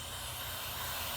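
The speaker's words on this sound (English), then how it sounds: "And you can also spray more throttle body cleaner in there." Aerosol throttle body cleaner sprays in a steady, continuous hiss into a Ford electronic throttle body to clear carbon buildup, loud and close with no pauses.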